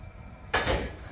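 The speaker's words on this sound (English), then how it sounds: "get the drawer back in there" A kitchen drawer on a rear slide-out slides shut with a short scraping rush and a soft thump, heard once, close by, in an otherwise quiet room.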